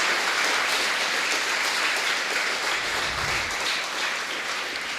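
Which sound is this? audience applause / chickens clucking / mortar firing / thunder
audience applause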